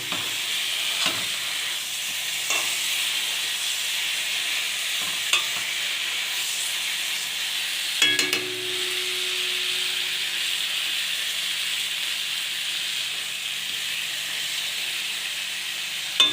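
Katla fish pieces are stirred into a frying spice masala, giving a steady sizzling hiss with occasional scraping knocks from the spoon against the pan, close and continuous.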